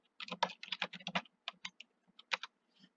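An address is typed on a computer keyboard in a quiet room, a close, crisp burst of rapid keystrokes followed by a few slower, separate taps.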